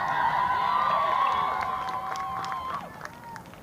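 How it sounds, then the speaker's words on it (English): Cheering from a varsity squad at a girls' lacrosse game, a sustained crowd roar of high voices that swells, holds, then tapers off with scattered shouts. "Heck of a cheer from the varsity squad there"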